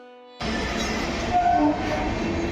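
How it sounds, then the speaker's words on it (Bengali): A train passes close by, a loud steady rumble and roar of rail cars that starts abruptly and continues without pause, with no voices. "কতবার যে আমি এখান থেকে ট্রেন দেখতে পাই কি বলবো।"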